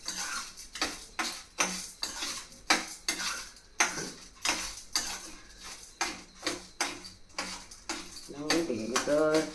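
A spoon stirs spices and sour raw mango roasting in a pan, giving rhythmic metallic scrapes and clinks close by, with a voice entering near the end.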